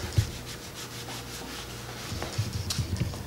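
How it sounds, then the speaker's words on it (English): A rag wipes and rubs over the underside of a 2013 Aprilia RSV4 Factory motorcycle during an oil change, soft close scuffing strokes with faint knocks, no talk. "I'm gonna wipe off that area."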